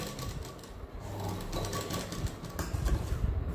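A sewing machine stitches a prince cut blouse with a fast, continuous mechanical rattle close by, running steadily and growing slightly louder toward the end, with no voices.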